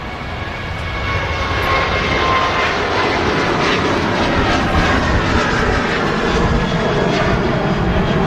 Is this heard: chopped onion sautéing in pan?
no